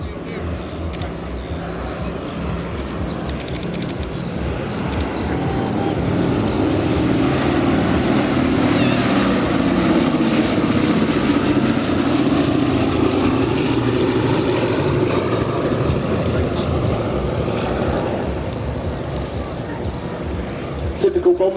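The Boeing B-17 Flying Fortress 'Sally B' passes overhead during a display at the Biggin Hill Festival of Flight, its four piston engines droning. The heavy roar swells, holds loud, then eases, with commentary underneath.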